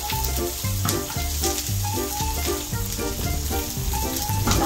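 Onions caramelize in a street-food pan while cooking adobong hasa-hasa, giving off a continuous, fairly loud sizzle and crackle with no voices.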